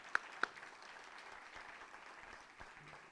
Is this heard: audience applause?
yes